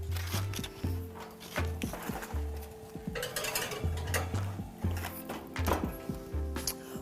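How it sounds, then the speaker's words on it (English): Clattering kitchen sounds of a tray and oven door as a black pepper strawberry galette goes in to bake, with scattered clinks, thunks and metallic scrapes over a steady low hum, close by and moderately loud. "we are going to pop this in the oven at 365 degrees for about 25 minutes"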